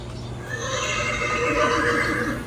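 Horse neighs and whinnies from a Home Depot Headless Horseman Halloween animatronic, a loud, continuous electronic neigh that fills the whole stretch, with faint hoof clip-clop beneath and no talking.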